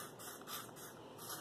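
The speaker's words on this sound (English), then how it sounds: "So let's go ahead and spray this real quick." Bath and Body Works fragrance spray misted in a few short, soft hissing bursts, faint and close, with no talking.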